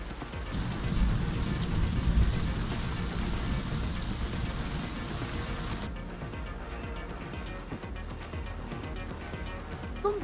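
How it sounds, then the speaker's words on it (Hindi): Heavy rain pours down in a steady, dense hiss that stays close and loud, then thins slightly partway through and keeps falling. "बारिश बहुत ज़्यादा है"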